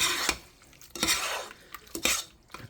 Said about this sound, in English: Alright, it's well stirred.